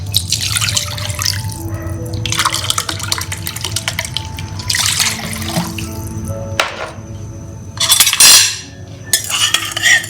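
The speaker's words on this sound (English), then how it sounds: "I'm going to add extra water, about 2 cups first." Water, about two cups of it, pouring into a pot of mango rasam on a kitchen stove, heard as a steady close trickle with drips and a few clinks of metal cookware.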